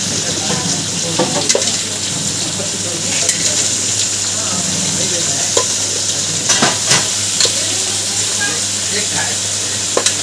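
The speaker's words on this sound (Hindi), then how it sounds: "इसको फ्राई करेंगे ना, बहुत फ्राई करेंगे" Eggplant and potatoes fry in a pan and are stirred, giving a loud continuous sizzle broken by repeated scraping and clattering strokes of the spoon.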